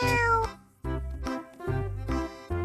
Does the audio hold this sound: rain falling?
no